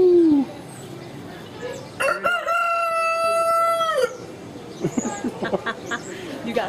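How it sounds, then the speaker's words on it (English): A rooster crows at a zoo, one long drawn-out call up close with clucking and other farm-animal noises around it, and voices talk nearby. "Cock-a-doodle-doo. Cock-a-doodle-doo."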